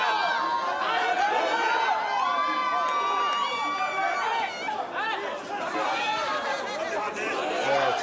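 A crowd of supporters cheers and shouts outside the Democratic Party's election situation room at the National Assembly members' office building during a presidential election night. Many excited voices overlap in a dense, close roar that continues throughout, with one brief dip partway through.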